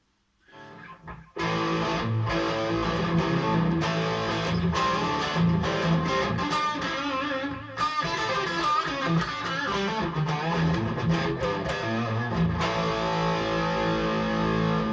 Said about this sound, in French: dans le rack, on retrouve les reverbs de chez Lexicon